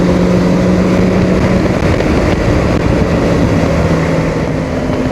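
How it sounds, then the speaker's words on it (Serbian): A motorcycle accelerates hard to overtake a car, a Golf II, on an open road during a long ride from Split to Belgrade. Its engine and wind noise form a loud, steady, close roar throughout, with no voices. "Ja sam na motoru pa mogu ovde malo sebi dozvoliti luksuz da preteknem neko vozilo."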